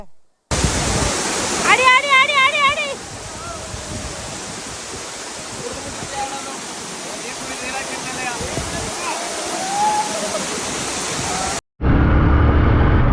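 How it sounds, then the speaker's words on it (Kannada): A loud, continuous roar of heavily flowing water at Jari Falls in Chikkamagaluru during the rains fills the scene, broad and unbroken, with faint chirping briefly audible over it. "ಬಟ್ ನೀರು ಹೆವಿ ಫ್ಲೋ ಆಗ್ತಾಯಿದೆ"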